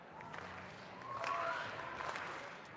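A large stadium crowd at the Olympic track and field trials claps along in a rhythm, a faint, distant wash of clapping that swells in the middle.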